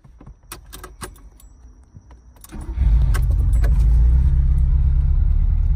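Classic 1979 Ferrari 308 GTS being started for a test drive: faint keys and clicks at first, then the engine catches and settles into a loud, steady, deep rumble close by.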